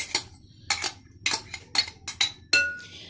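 A spoon clinks against a bowl while karanji filling is stirred together, about seven sharp metallic taps at an uneven rhythm, close and clear with a faint background hum.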